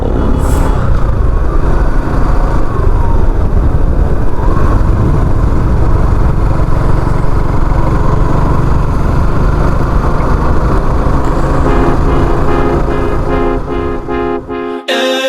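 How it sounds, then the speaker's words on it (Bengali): A motorbike rides along the sand of Cox's Bazar beach, its engine a loud continuous drone mixed with wind buffeting, easing off near the end as music comes in. "আমরা দুইজন বাইক রাইড করতেছি শুধু, মানে বিচের মধ্যে রাইড করতে খুবই ভালো লাগতেছে।"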